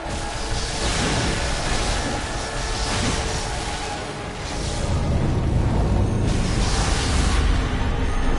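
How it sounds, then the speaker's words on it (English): Explosion in the video game Bloodborne: a loud, sustained, roaring blast that rumbles on for several seconds, with a second surge of heavy low boom partway through and no voices. "Okay, that's an explosion."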